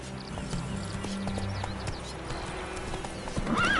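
Horse hooves in The Witcher 3 clip-clop steadily at a moderate pace over ambient game sound, and near the end the horse gives a short whinny.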